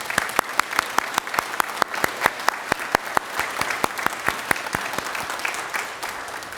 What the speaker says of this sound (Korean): 우리 목사님께 좀 감사의 박수를